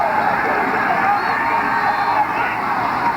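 Crowd noise at a 1997 Princeton vs Maryland men's lacrosse national championship game, a sustained roar of cheering and babble from a large stadium audience, loud and continuous throughout.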